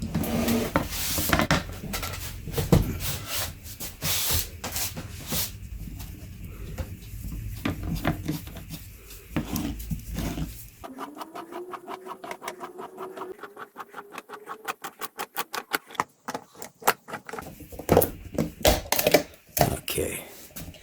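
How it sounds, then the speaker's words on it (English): A used Mopar MO-041 oil filter from a Dodge Challenger is cut open with rapid, close metallic ticking and rattling clicks, fast bursts of cutting between short pauses, then a lighter rhythmic clatter near the end; someone talks at the start. "let's open this filter up to see what it looks like"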